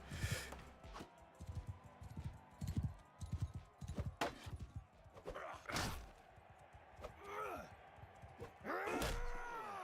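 Horse hooves clatter in the medieval combat game Mount & Blade Knightfall, a quick run of clip-clop steps mixed with thumps and clashing impacts, and a voice talks over parts of it.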